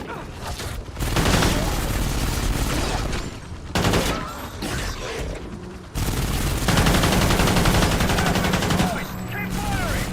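Dense automatic gunfire from Call of Duty: Ghosts in Extinction mode rattles nearly nonstop, loud and close, with brief pauses between long bursts.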